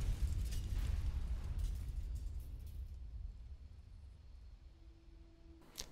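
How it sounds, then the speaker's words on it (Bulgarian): A video game spaceship crash: a heavy, rumbling crash with loud booming bursts at the start, fading into a low sustained roar and hiss, then a faint electronic tone and a final sharp burst. "Тежко, тежко катастрофирахме."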